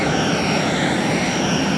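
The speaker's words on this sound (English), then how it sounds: "Alex has a jetpack!" A jetpack engine in the Charlie's Angels GameCube game gives a loud, steady, droning roar like an aircraft engine, continuous and unbroken, with no voices over it.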